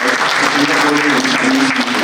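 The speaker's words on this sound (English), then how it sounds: "give a very big round of applause for his 88th book" Dense, steady audience applause at a book cover release event at an awards gathering in Singapore, close and loud for the whole short stretch, with a faint voice humming beneath the clapping.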